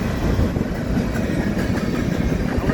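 A CSX manifest freight train rolls past close by with a continuous heavy rumble and rattling wheel noise, loud and steady throughout.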